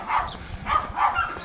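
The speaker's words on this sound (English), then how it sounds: "the noise you can hear apart from the birds is the dogs barking at" Dogs barking at a farm, three spaced bursts of barking at moderate distance, with birds faintly audible in the background.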